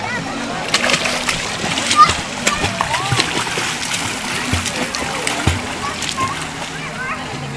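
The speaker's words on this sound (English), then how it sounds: "Go ahead, show me how you can swim over there." A child swims in open water, splashing steadily with irregular slaps and sloshes close by while an adult and someone talk over the sound.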